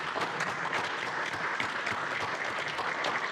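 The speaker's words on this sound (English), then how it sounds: "Round of applause, everyone, please." A press conference audience applauds footballer Tim Cahill on his retirement from the Socceroos, with moderate, steady clapping of sharp individual claps throughout the short stretch.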